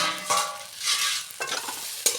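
Kalmi sag (water spinach) being stirred in a pan: a few scraping, rustling strokes, the first near 0.3 s, more around 1 s and 1.4 s and a sharp one near 2 s, over a soft continuous sizzle, with no voices.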